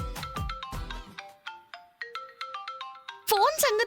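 A mobile phone ringtone plays a bright, repeating electronic melody of sustained tones, loud and close, starting after a brief burst of speech and ending with more voices over it.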